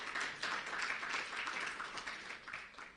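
Audience applause at a presidential conference in Israel, steady dense clapping from a crowd filling the whole moment without pause, fairly even in level with slight swells.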